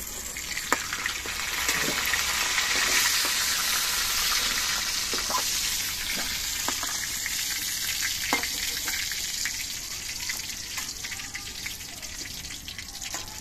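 Loud, continuous sizzling of pointed gourd pieces frying in oil, with sharp crackles and pops scattered throughout, heard up close without speech.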